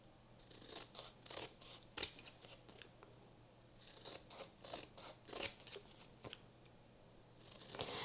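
Scissors snip and trim around the edges of a Mod Podge–coated craft piece made from thrift store finds, in a run of quick, close cuts with short pauses between bursts; no one speaks.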